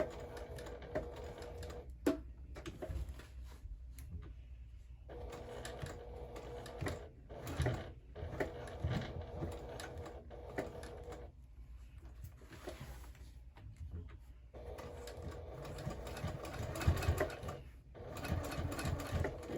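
A sewing machine stitches a crossbody bag, running steadily in long bursts with brief pauses between, close and moderately loud with no talking.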